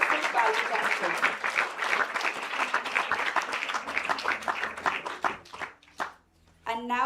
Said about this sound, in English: So can we give them all another big round of applause for all our wonderful Balvikas children.